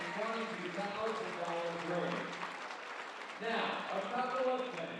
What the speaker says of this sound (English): Give yourselves all a big round of applause here tonight.